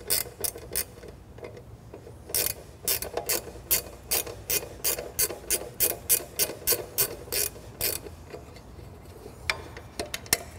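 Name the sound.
removing the screw from a drum sander's wiring box cover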